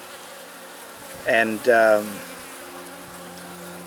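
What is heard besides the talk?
honey bees buzzing on a hive frame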